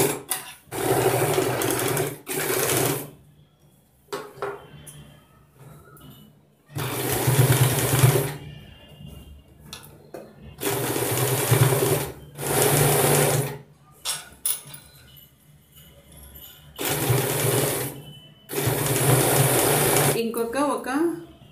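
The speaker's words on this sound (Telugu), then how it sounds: "ఈ హ్యాంగింగ్ ఇక్కడ స్టిచ్ చేసుకుంటున్నాను నేను" A sewing machine stitches lace onto a designer blouse in repeated loud bursts of rapid mechanical whirring, several runs separated by pauses, with a voice speaking between them.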